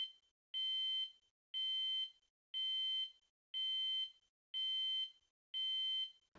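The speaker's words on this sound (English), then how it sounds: "Under no circumstances do you call security to inquire about the fire alarm." Fire alarm sounding in a hospital ward: six evenly spaced, piercing electronic tones, each about half a second long and separated by brief gaps, loud and steady with nothing else heard.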